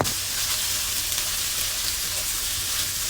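Onion sizzles in a hot pan with chicken breast and garlic, a steady, close, bright frying hiss that stays even throughout without pauses.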